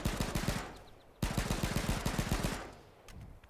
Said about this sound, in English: here's the AK